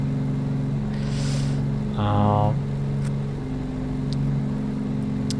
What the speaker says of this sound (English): It looks like that the left engine is much stronger compared to the right engine